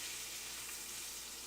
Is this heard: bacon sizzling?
yes